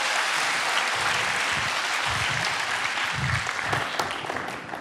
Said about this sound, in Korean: 따뜻한 박수로 맞아주십시오.